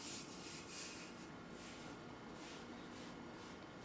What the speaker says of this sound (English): take flour, rub that all over your